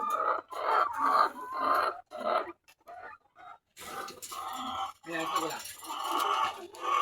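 RTL laying hens cluck and call on a poultry farm, close and lively, in bursts under and between a person talking.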